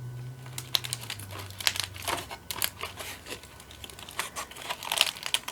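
Aluminium foil crinkles and crackles up close while a stuck craft item for a mask is worked free, in irregular bursts of dry crisp rustling over quiet room noise, with no voices.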